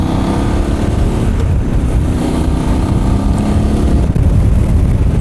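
Voge DS 800 Rally motorcycle engine pulling steadily in fifth gear at around 34 mph, a continuous loud low drone with wind rush and no talk over it.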